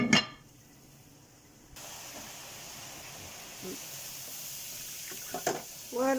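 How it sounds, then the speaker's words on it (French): Fries cooking in hot oil, a soft steady sizzle and hiss running throughout at low level, with a few faint clinks of utensils. "nos frites sont en train de cuire aussi"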